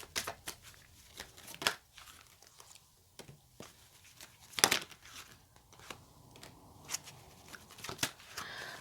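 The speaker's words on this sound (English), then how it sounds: "if the cards will shuffle properly." Tarot cards being shuffled by hand make quiet, irregular papery riffles and soft snaps, scattered in short bursts over a hushed background with no speech.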